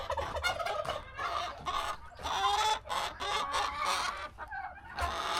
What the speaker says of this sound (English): They're all gobbling.